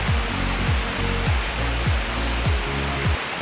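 Busay Falls in Barangay Cagay, Masbate, gives a steady, loud broadband roar of falling water that fills the scene continuously, with faint low rhythmic thumps beneath it.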